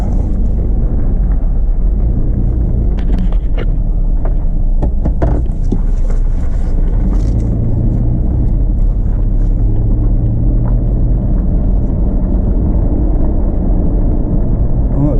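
A 2002 Chevrolet Blazer engine runs loud and close while driving, a heavy continuous rumble with a gear shift partway through and scattered clicks and knocks from the cabin, with a voice speaking briefly over it.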